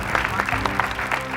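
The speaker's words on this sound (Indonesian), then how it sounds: "Tepuk tangan buat teman saya kenapa?" A studio audience claps for a guest in an Indonesian comedy show, a brief burst of rhythmic, fairly close clapping lasting only a moment.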